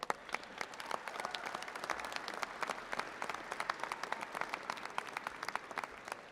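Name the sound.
audience round of applause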